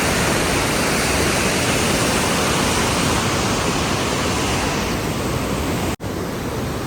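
Loud, steady roar of the flooded Chaliyar River rushing fast, filling the whole clip, broadband and unbroken, with a brief dropout near the end.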